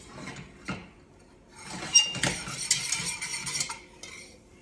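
Roux is stirred in a hot pan, a utensil scraping and tapping the pan in quick, fairly quiet strokes with a faint sizzle underneath.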